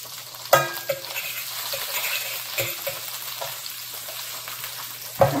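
Butter and garlic sizzle in a pan for a lemon shrimp linguine, a continuous hiss broken by a few utensil knocks against the pan, with no voices.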